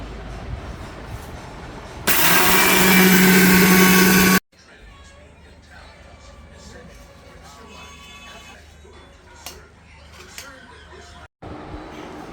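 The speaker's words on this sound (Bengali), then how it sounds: "এটাতে ব্লেন্ডার করবো" An electric blender in a home kitchen, used while preparing nakshi pitha, roars loudly and steadily for about two seconds, then cuts off abruptly. People talk before and after it.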